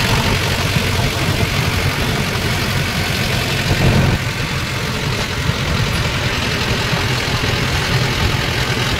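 A tractor engine running near rice fields during paddy planting, a loud, steady, close-up chugging drone that holds without a break, with a brief shift in tone midway and no talking.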